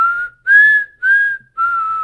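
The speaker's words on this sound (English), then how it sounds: "I don't know if I can whistle." A person whistles a short four-note mockingjay tune up close. The notes are clear and sustained, separated by brief pauses, with a small rise in pitch on the second and third notes.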